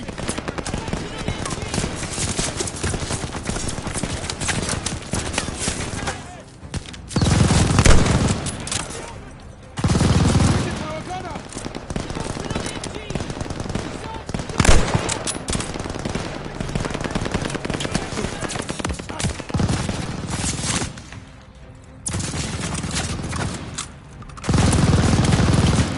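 Machine gun fire in a battle, long rapid bursts of automatic shots broken by brief pauses, loud and close, with shouting voices mixed into the combat noise.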